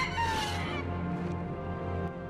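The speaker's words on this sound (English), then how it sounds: "It's a Tatooine rooster dragon." A Tatooine rooster dragon, a fictional creature, lets out a loud, sustained, harmonic crowing call with a rising squawk at the start, continuing steadily over a dense background mix for the whole stretch.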